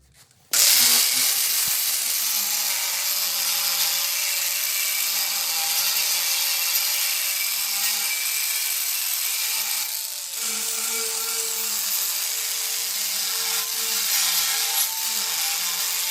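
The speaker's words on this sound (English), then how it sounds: "The flap wheel here to finish these off." A flap wheel grinder finishing metal trailer fenders, a loud continuous high-pitched whine that starts abruptly and holds steady, with slight shifts in pitch as pressure on the workpiece changes.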